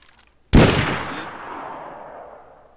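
A single sharp gunshot in the video game DayZ cracks loudly after brief quiet, followed by a long decaying echo that fades out over two seconds.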